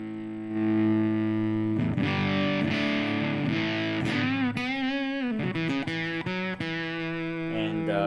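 Electric guitar played through a Garnet Herzog distortion box, thick sustained overdriven notes and chords ringing loudly with bends and slides, heavy harmonic fuzz throughout with no talking.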